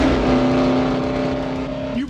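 A fast car roars past during a movie car chase, its engine note loud and steady with a tonal whine, then dipping sharply at the end as it passes.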